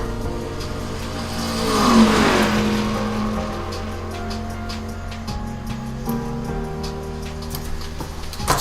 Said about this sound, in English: Guys are going to go out here and sort of run around the track for a few seconds here until we get into qualifying.